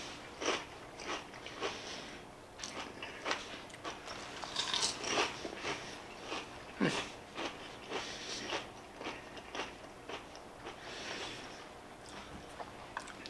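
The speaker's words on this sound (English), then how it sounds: "let's give one of these and just listen to that crunch" Crisp, crackly crunching from repeated bites into a crispy seasoned onion ring, a steady run of close chewing crunches heard alone with no talking.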